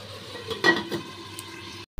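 A lid set onto a pot of fish roe curry with potato and drumstick stems, giving a single soft metallic clink over a faint simmer before quiet.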